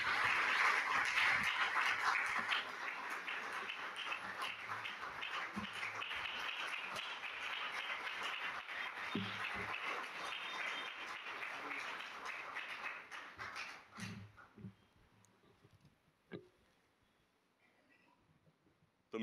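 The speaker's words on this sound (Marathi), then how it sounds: "आपण त्यांच्यासाठी टाळ्या वाजवूया आणि त्यांचं स्वागत आपण करूया" Church congregation applauding to welcome the pastor at a special anniversary service, a dense, sustained round of clapping that fades out after about fourteen seconds, leaving a few scattered taps and quiet room noise.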